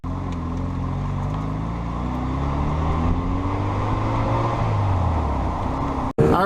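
A 1993 Mazda RX-7 drives along back roads, its engine holding a steady, loud drone with pitch rising and falling through gear changes, then cutting off abruptly near the end.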